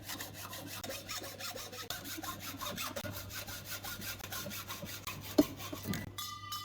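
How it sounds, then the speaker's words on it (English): A hacksaw with a sharp new blade cuts around a metal clothes hanging rail. Its quiet, even back-and-forth strokes repeat steadily at close range. "all we want to do is extend that nick right the way round to give us a nice clean cut"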